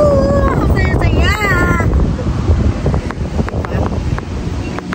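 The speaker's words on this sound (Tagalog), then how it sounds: "Maririnig mo yung hampas ng alon sa lupa, yung hangin, yung mga galaw ng mga puno" Ocean waves wash onto a shore near a lighthouse as steady wind roars into the microphone, a dense constant rush at close range, with people talking over it at the start.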